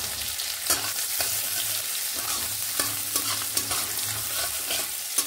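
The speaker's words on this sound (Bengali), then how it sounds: "এইভাবে নেড়ে নিচ্ছি কয়েক সেকেন্ড।" Cumin, chopped chilies, ginger and garlic stir-fry in a hot pan with a steady sizzling hiss, broken by occasional scraping taps of a spatula.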